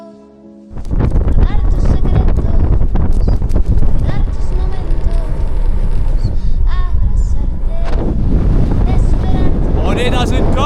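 Strong, loud wind in the Andes mountains roars and buffets the microphone continuously during a bicycle crossing, with voices faintly audible beneath the gusts.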